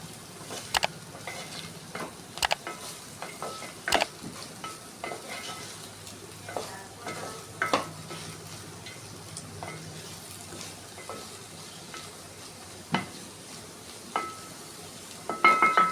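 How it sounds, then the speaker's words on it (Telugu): Dried prawns, onion pieces and green chilli are stir-fried in oil, with a steady sizzle throughout and occasional sharp scrapes and knocks of the spoon against the pan. "ఇలా కలుపుకుని రొయ్యలు ఆయిలు ఉల్లిపాయ ముక్కలు పచ్చిమిర్చి ముక్కలు మొత్తం కలిసేలాగా గట్టితో కలుపుకుని"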